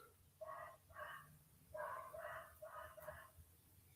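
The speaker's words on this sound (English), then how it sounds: "That just sounds like an angry dog." A dog barks in five distinct bursts, quite far off and faint, the harsh calls coming in a loose irregular rhythm with no talk over them.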